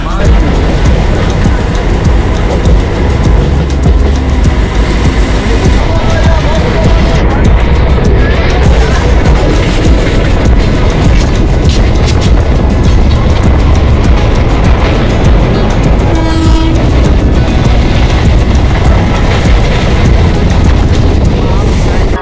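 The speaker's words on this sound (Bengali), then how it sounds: "বৃষ্টিকে পরোয়া না করেই ট্রেন গড়গড়িয়ে চলল শ্রীরামপুরের দিকে।" A Tarakeswar local train runs in the rain with a loud, continuous rumble and roar heard from close by. The noise stays heavy and even throughout, with no clear breaks.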